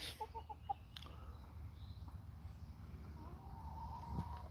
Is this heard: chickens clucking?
yes